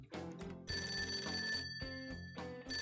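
Telephone ringing in the video game Persona 5 Tactica: a loud, repeated electronic ring in bursts over a steady musical backing, with no talking.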